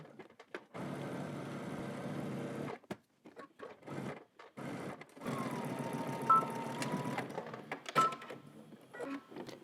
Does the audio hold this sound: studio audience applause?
no